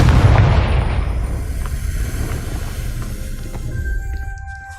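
A loud Confringo fire spell blast from the video game Hogwarts Legacy, one booming explosion that rumbles and slowly fades over several seconds with no talk.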